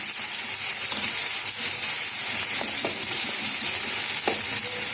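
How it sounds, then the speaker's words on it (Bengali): Cut potatoes and eggplant fry with salt and turmeric in a pan, giving a loud, even sizzle with faint stirring scrapes throughout and no voices. "আমি ভালো করে ভেজে নেব"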